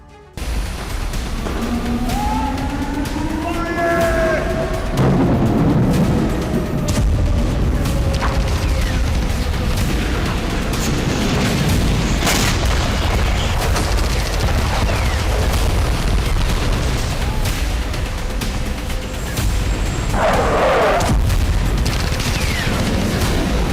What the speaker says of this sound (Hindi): यूक्रेन की जमीन से भी बड़े धमाके,